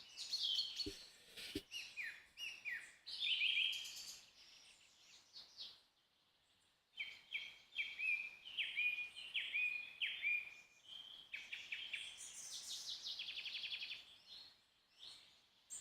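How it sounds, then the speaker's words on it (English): Birds call loudly and repeatedly, in bursts of bright chirps, tweets and short whistled phrases that overlap through the whole stretch, with one brief quiet gap near the middle. "What, the loud birds?"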